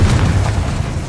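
Confringo blasting spell explosion in Hogwarts Legacy: a single loud, deep booming blast with a rumbling, noisy tail, heard up close and alone.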